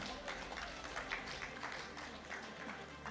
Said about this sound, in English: please give them a lusty round of applause